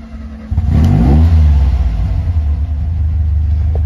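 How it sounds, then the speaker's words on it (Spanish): A VW 1303 Super Beetle convertible engine revs: it swells sharply into a loud, low rumbling rev after a quiet idle, then eases back to a steady, throaty idle close to the microphone. "Escuchen ustedes el motor."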